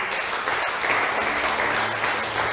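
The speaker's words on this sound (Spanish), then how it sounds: "¿Podemos darle un aplauso a Él?" A church congregation applauds together in a large room, with dense, steady clapping that stays loud and unbroken for a couple of seconds.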